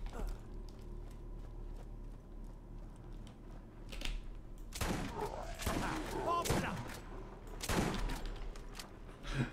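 Shotgun blasts from Borderlands, Zombie Island of Dr. Ned DLC: a handful of loud, sharp booms cluster in the second half, rising over a steady bed of in-game ambience.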